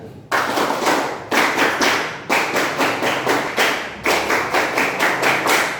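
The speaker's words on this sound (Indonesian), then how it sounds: "marilah kita melaksanakan tepuk pramuka" Rhythmic group clapping of a Scout clapping routine (tepuk pramuka) by a class during a teaching practice session, loud sharp claps in repeated patterned bursts of quick claps separated by short pauses, no talk.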